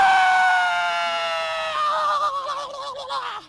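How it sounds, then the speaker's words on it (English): A man lets out a long, loud scream close to the microphone, a high sustained cry that slides downward and breaks into a wavering, shaky tail before cutting off. "I'm going to close it off with my own scream."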